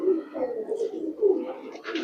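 Low, rolling coos from a female Bagha pigeon in a loft full of Bagha birds, several murmuring pulses in a row at close range, with faint higher noises toward the end.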